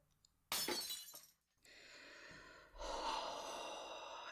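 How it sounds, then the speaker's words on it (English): A picture frame hits the floor close by with a sudden sharp crash of breaking glass, followed by a short sharp breath and then a soft sustained rushing hiss in a quiet room. "And you smashed the frame."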